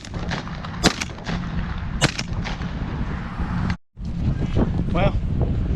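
Shotgun blasts from a pigeon hunt in hurricane-force winds, two sharp close bangs over a constant roar of wind buffeting the microphone, with a brief dropout near the end and people talking.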